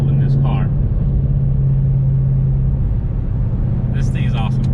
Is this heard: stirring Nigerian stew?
no